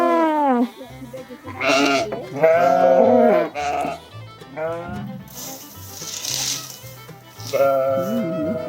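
Sheep bleat repeatedly on a farm as they are let out after their first night in a new place, loud and close, in several separate calls.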